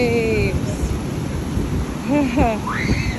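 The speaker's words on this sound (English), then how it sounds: "Check out these waves." Rough ocean surf breaks along the east coast at Baler in the Philippines, a loud broadband wash mixed with wind buffeting the microphone, while a person speaks over it.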